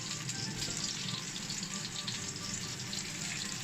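Butter melts and sizzles in a hot pan beside steak and fries, a soft, even hiss with light crackling throughout and no voices.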